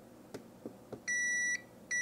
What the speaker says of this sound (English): When there is connection, it'll beep.